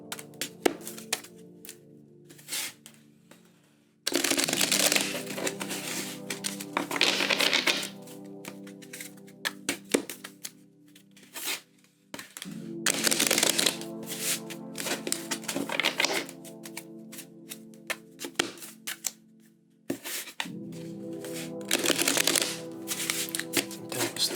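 Tarot cards being shuffled in three separate bursts of riffling and flicking, each several seconds long, with quiet gaps and soft handling noises between them and no talk.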